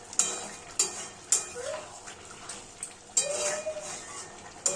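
Bengali jackfruit curry simmering in a pot with ghee and garam masala, soft bubbling and a faint wet sizzle broken by several sharp scraping stirs and clinks of a spoon against the pot.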